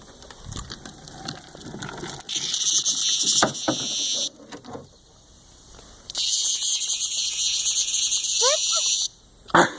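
A cicada gives off bursts of loud, raspy buzzing that start and stop abruptly, close to the microphone, with quiet gaps and faint background voices between bursts.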